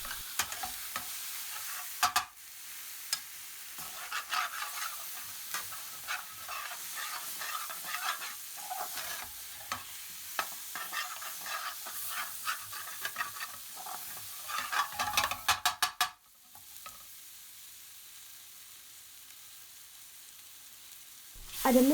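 Coriander, garam masala, chilli and turmeric stirred into hot oil for a British Indian restaurant-style dopiaza, with sizzling and scraping strokes for about fifteen seconds before the frying settles to a quieter hiss.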